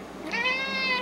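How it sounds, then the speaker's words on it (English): A cat in a workshop lets out a single clear, drawn-out meow, close and loud with no other sound around it. "This is Shop Cat. She's my shop assistant."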